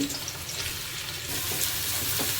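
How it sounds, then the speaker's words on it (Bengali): Chopped onion frying in hot olive oil, a steady close sizzle and crackle that holds throughout with no talking. "পেঁয়াজটা একটু ভেজে নেব"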